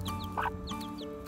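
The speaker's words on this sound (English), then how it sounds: "Mummy hen and the chicks talk to each other all the time" A Serama hen and her chicks give short soft clucks and high peeps in quick succession, close by and quiet, with no speech.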